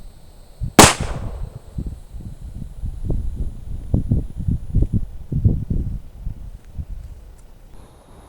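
A single sharp gunshot from a hand-loaded .38 Special snake shot round cracks out loud and close, then fades into quiet outdoor rustling and wind.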